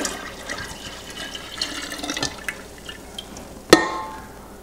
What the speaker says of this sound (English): I'm first going to pick up the SCOBY, pour in the reserve brew